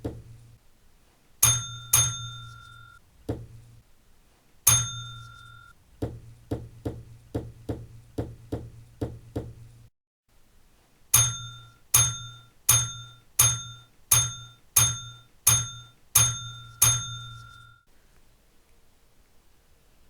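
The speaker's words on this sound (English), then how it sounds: "9 bells." Railway signal box block bell ringing nine beats for a train passed without tail lamp, clear resonant dings in groups with short pauses, struck close by, with a low hum and faint knocks in between.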